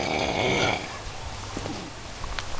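A man snores inside a tent while camping, a deep rasping snore heard up close over low background hiss, with a rumbling breath drawn in the first second.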